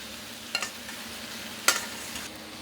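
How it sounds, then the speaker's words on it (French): Mushrooms sautéing in the fat left in a pan while cooking bœuf bourguignon: a steady soft sizzle, broken by two sharp utensil clinks against the pan, with no talking. "On les débarrasse, mais on garde bien le gras dedans pour faire sauter nos champignons juste derrière."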